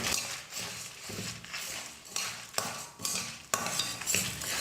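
Lentils and chillies dry roast in a pan over a low flame for idli podi, with dry rattling and scraping as they are stirred in uneven bursts, fairly quiet and with no voices.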